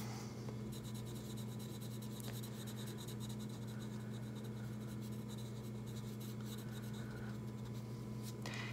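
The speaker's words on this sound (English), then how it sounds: "you can use your pencil and you can neatly color in around that tiny little circle" Pencil coloring in a small area of a drawing, a faint continuous scratchy rubbing of graphite on paper over a low steady background hum.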